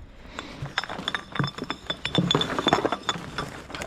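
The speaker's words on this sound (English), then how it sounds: "Got five glass bottles here." Five glass bottles clink and knock together as they are handled while collecting litter, a quick run of close, bright chinks and taps.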